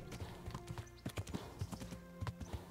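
Horse hooves clip-clopping at a steady trot in the medieval video game Kingdom Come: Deliverance, a rhythmic run of close, moderately loud hoofbeats with faint background ambience and no talk.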